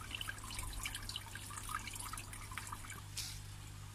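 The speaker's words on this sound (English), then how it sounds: "I can get my excess water to my drain without flooding my garden." Excess water from a garden koi pond runs through a DIY overflow pipe to a drain, a steady faint trickle with small drips over a low background hum.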